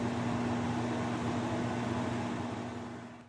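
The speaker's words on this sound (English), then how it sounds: "So the last step in cooking our 1-minute cheese eggs is to put our eggs in the microwave" A microwave oven runs steadily while cooking eggs, giving a constant mid-level hum with a mechanical drone and no other sounds.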